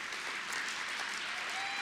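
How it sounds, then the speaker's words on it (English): Steady applause from a gala ceremony audience, dense and even throughout with no pauses or talk over it. "Yes, clap."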